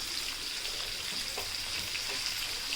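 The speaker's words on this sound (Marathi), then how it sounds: "आपण आता इथे मच्छी मस्तपैकी अशी अल्टीपल्टी करून घेऊयात" Mackerel pieces frying in hot oil as they are turned over in the pan, a steady broad hiss of sizzling with a few soft clicks and taps from the flipping, close and continuous.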